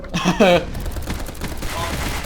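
Pistol gunfire in Roblox, a rapid burst of shots right at the start, then a quieter stretch of game noise with a voice briefly heard.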